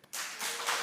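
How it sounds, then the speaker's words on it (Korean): Two people clap briefly during a church Sunday worship service, a short burst of claps starting after a brief pause and running for under a second. "두 사람이 박수 한번 내"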